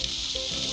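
Garlic dropped into heated oil for spicy cutlets sizzles in a steady, bright hiss, close and even throughout a very short moment, with no talking.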